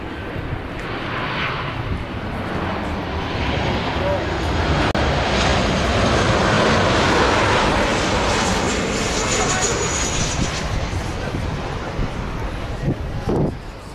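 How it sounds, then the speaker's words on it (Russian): A steady, broad roar of an airplane passing overhead near the airport on Corfu, Greece, swelling and fading slowly, with wind noise and occasional voices underneath. "летит самолет как раз"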